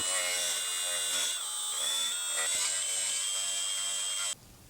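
A power drill whines at high pitch, steady and close, drilling a motorcycle handlebar grip, wavering slightly as it bites, then cuts off abruptly near the end.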